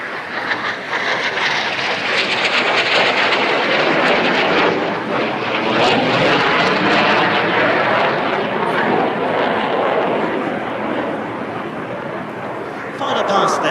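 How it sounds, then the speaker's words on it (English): An Aero L-159 ALCA light combat jet making its final display pass at an airshow, a loud sustained broadband roar that holds steady throughout with a commentator talking over it. "Final pass there from the ALCA, which will now come in to land."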